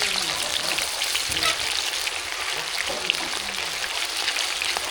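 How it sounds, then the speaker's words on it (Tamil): Cauliflower chilli pieces deep-fry in oil with a continuous close, bubbling crackle and sizzle, plus a few soft knocks, and no one talking. "இப்போ இதே மாதிரி எல்லாத்தையும் எண்ணெயில் போட்டு எடுத்துடலாம்"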